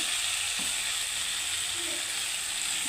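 Pointed gourd and potato stir-frying in a pan, a steady close sizzle with a bright, hissing crackle throughout and a faint scrape of stirring now and then, no voices.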